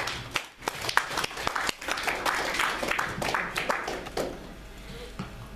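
A church congregation claps and cheers in praise for Jesus, a dense, steady burst of applause lasting several seconds and tapering slightly toward the end.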